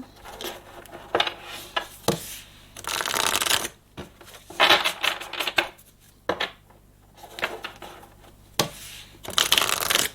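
Tarot cards are shuffled by hand in repeated riffling bursts separated by short pauses and soft taps, close and crisp with no speech.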